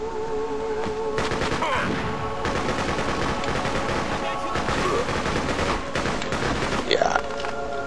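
Shotgun fire in the video game Freedom Fighters, a steady barrage of gunfire and blasts under game sound, with short voice snippets in between.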